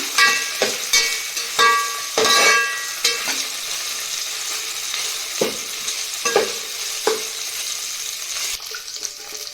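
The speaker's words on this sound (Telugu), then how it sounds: "అల్లం పచ్చిదనం అనేది పోయే వరకు మనం చక్కగా రెడ్గా వచ్చేంత వరకు ఫ్రై చేసుకుందాం" Ginger for khichdi frying in oil with repeated stirring, close spoon scrapes and clinks over a steady sizzle, several sharper strokes spaced through.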